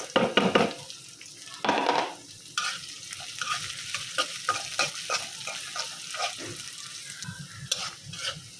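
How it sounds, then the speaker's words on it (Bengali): Chopped onion and green chilli added to browned garlic in hot oil in a home kitchen, a sizzling fry with bursts of stirring and scraping of the pan, close and clear without speech. "এখন দিয়ে দেবো পেঁয়াজ কুচি আর কাঁচামরিচ কুচিটা"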